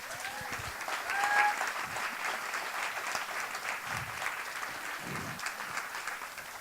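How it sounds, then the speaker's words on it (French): Audience applause at a televised interview, steady moderately quiet clapping across several seconds, with a brief louder swell early on and a few low thumps beneath. "on les applaudit."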